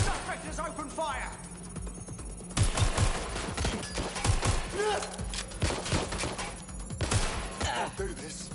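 Rapid bursts of gunfire in Watch Dogs Legion crackle in clustered volleys across the scene, loud and close, with game voices and other sounds mixed in.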